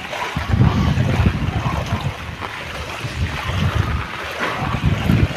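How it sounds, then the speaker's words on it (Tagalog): Strong typhoon wind during Typhoon Ulysses in Bulacan roars steadily and buffets the microphone in gusty low rumbles, with no voices. "lakas pa rin ang hangin ngayon"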